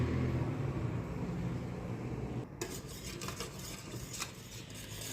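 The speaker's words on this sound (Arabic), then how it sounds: "كل ما بحط لازم نحرك البهارات مشان ما تجمع مع بعضها" Spices being stirred in a pot while cooking chicken maqluba, a soft scraping and rubbing of a spoon against the pot under a low hum, quiet and close, with no talking.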